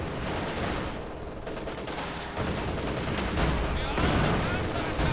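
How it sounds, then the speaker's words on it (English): MG-42 machine gun fire in a Company of Heroes 2 battle against conscripts and grenadiers, dense rattling bursts and explosions filling the scene continuously with a heavier stretch near the end. "In the middle we have an MG-42 holding off against conscripts."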